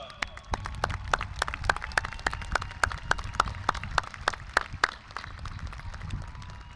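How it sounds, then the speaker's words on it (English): Scattered, rhythmic clapping rises from the audience at a Memorial High School graduation ceremony in San Antonio, sharp individual claps repeating steadily over a low crowd murmur. "Please join me in giving them a round of applause."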